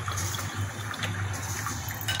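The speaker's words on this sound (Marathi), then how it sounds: "वरून पाणी ओतायचं त्यामध्ये" Water pours steadily into a raw mango drink over a few ice cubes, a soft continuous splashing and gurgle heard up close and alone for about two seconds.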